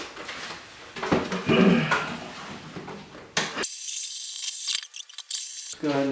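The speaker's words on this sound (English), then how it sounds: "You want to vacuum out the hole." Some handling noises and scraping, then a small vacuum starts with a loud, steady high whine for a couple of seconds, cleaning out a hole drilled in a wall, before cutting off.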